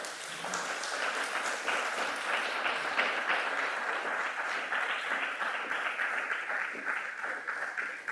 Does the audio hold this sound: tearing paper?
no